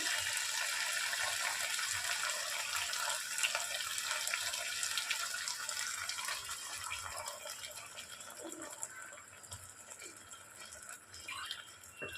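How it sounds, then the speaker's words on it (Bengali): Water from a bowl that held tomato sauce is poured into a pan while making chilli paneer, giving a steady, close splashing stream that slowly fades, with no talk. "এই টমেটো সসে যে বাটিটা রেখেছিলাম ওই জলটাও এর মধ্যে দিয়ে দিচ্ছি"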